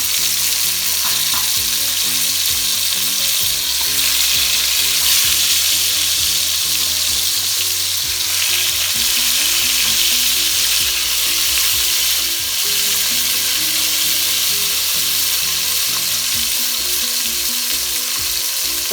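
Cow foot pieces frying in olive oil in a pot for a Jamaican dish, a loud dense sizzle that holds steady for the whole stretch with faint crackles and no voices.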